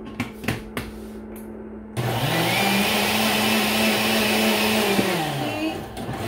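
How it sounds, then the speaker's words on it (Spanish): A few clicks and taps lead into a countertop blender whirring on, grinding oats with a loud steady motor whine whose pitch shifts slightly as it runs. "agarra la media tacita de avena y lo vamos a licuar"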